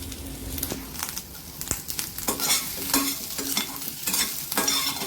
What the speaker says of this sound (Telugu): ఉల్లిపాయలు మనకి ట్రాన్స్పరెంట్ అయ్యే వరకు, లైట్గా కలర్ మారే వరకు వేపుకోవాలి